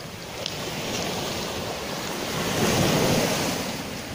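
Steady roar of winter sea surf washing onto the shore, with gusting wind noise on the microphone and a slow swell in loudness.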